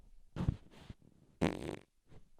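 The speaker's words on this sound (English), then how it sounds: "the fabric in the microphone really absorbs the fart" A person's fart caught close on a microphone, heard as a few short low bursts with one longer rasping one in the middle, fairly quiet, with no talk.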